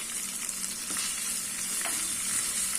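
Onions sauté in a pan for broken wheat kichadi, giving a steady, close sizzle with a few soft clicks of stirring and no talking.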